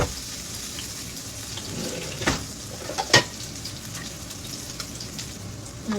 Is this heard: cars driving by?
no